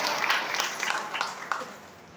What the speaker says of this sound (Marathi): महाराज टाळी वाजवा एकदा.